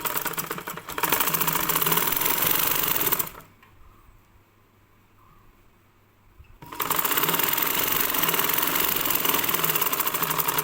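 A sewing machine stitches blouse fabric with a loud, rapid, rhythmic whirring, then pauses for a few seconds before running again at the same steady pace.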